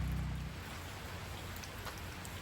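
Steady rain falls outside a cabin in the woods, a soft, even hiss of drops on surfaces with no voices.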